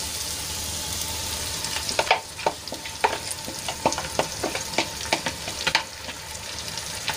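Spice and yogurt paste is stirred into onions frying in a pan, a soft sizzle under a series of sharp spoon scrapes and knocks that begin partway through, close and without talk.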